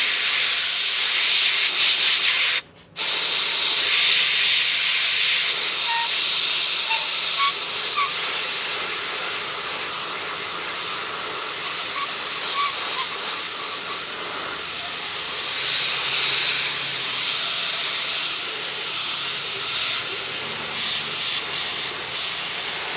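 An Avanti airbrush sprays at around 25 psi, giving a steady, close, continuous airy hiss that cuts out only for a brief moment near the start.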